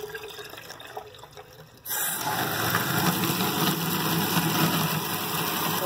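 Water surges through a Bernoulli demonstration rig strong enough to lift a weight, a loud steady rushing hiss that bursts in abruptly after a quiet second and keeps flowing evenly to the end.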